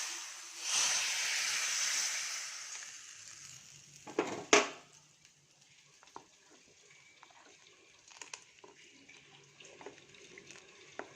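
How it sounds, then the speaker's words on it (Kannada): Mustard seeds, chana dal, urad dal, cumin, fenugreek and curry leaves hit hot oil for a sambar tempering, a loud hissing sizzle that bursts briefly, then dies down to faint crackles and pops. "ನೋಡಿ, ಒಗ್ಗರಣೆ ಹಾಕ್ತಾಯಿದ್ದೀನಿ."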